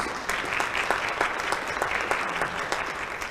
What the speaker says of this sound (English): I would like to have a big round of applause for everybody who's presented today.